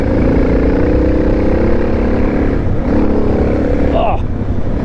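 A Suzuki DR650 dual-sport motorcycle rides along lowland trails with a loud, steady engine drone and a brief shift in pitch near the end, with talk heard over it.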